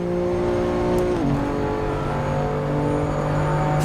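A race car engine in Assetto Corsa Competizione, from the Challengers Pack DLC, gives a loud, throaty drone close up. It holds steady, drops in pitch with a gear change just past a second, then holds at the lower tone.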